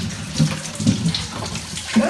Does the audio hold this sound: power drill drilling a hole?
no